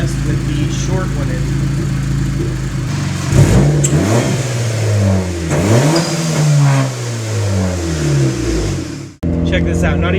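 A turbocharged car fitted with a short custom HKS blow-off valve insert revs up several times in quick surges with sharp rising and falling engine sweeps, loud and near, with a brief cut before the engine picks back up.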